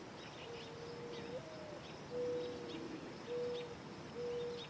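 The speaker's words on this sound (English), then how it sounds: "Oh yeah, some mourning doves." Mourning doves call in soft, drawn-out hoots within a music track, several low mournful coos repeating at intervals over a quiet textured background layer, with faint chirps scattered above.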